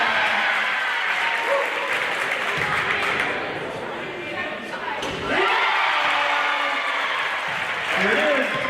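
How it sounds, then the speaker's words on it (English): In a high school gym, a crowd claps and cheers for race participants, with loud sustained applause, mixed voices, a dip midway and a sharp thump before the noise swells again. "All right, let's cheer them on."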